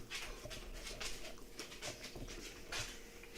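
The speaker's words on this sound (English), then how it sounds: "Crazy dogs." Dogs panting and whimpering close by, quiet, with soft repeated breaths and small whines over a low background hum.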